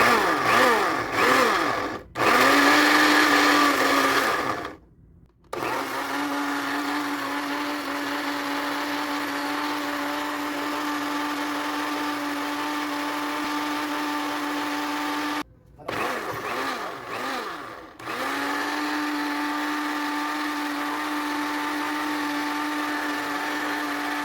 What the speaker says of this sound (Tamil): ஸோ நண்பா இப்போ மிக்ஸியில் அடிச்சிடணும் தான்.